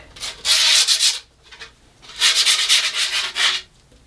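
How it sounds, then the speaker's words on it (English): Sandpaper rubbing along the edge of fresh grip tape on a new skateboard build, two loud close bursts of rapid rasping strokes separated by a short pause. "But sand out that little mess up."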